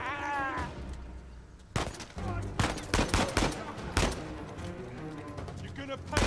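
Gunfire in the video game Uncharted 4 bursts out in rapid sharp shots and volleys, loud and close, mixed with game sounds and a voice speaking briefly near the start.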